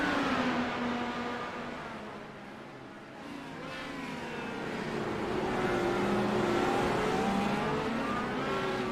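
IndyCar race cars in a racing video game at Barber, high-horsepower, high-downforce machines, their engines droning and revving steadily with pitch sweeps as several cars run close together, loud and continuous.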